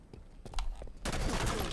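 Gunfire in an Xbox exclusive online multiplayer video game. A few sharp, scattered shots come first, then a dense, sustained burst of firing fills the second half, loud and close.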